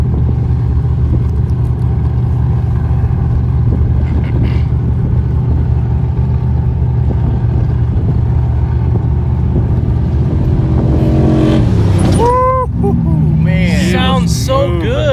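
A race car engine during qualifying at the 2022 TDK Big Sky 200 in Broadview, Montana, drones steadily and loudly, then revs and shifts in rising and falling sweeps toward the end, with a crowd's murmur beneath.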